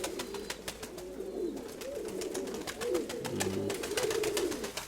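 Racing pigeons in a loft coo in low, rolling, repeated calls close by, with sharp clicks and flutters punctuating the steady cooing throughout.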